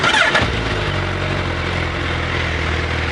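A Suzuki Hayabusa motorcycle engine cranks and catches, then settles into a steady, close, rumbling idle that fills the rest of the moment.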